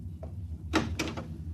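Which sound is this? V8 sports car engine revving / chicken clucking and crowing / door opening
door opening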